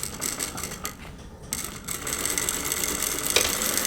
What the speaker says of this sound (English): back tack, and as you can see I'm stretching my curve so it's straight